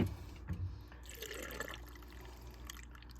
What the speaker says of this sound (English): I'm going to go ahead and fill the jars with water to my 1-inch headspace